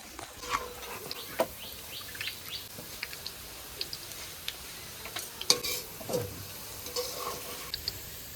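Onions frying into crisp beresta for hilsa biryani are stirred in a pan, giving faint scraping strokes and sporadic clicks of the spoon over a soft sizzle. Light chirps come from somewhere in the background.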